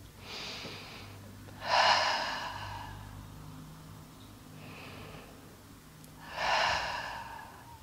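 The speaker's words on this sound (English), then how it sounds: "take two deep breaths" Slow, deep breaths during a calming yin yoga session for anxiety, two long airy exhales standing out clearly against a quiet room, each drawn out and unhurried.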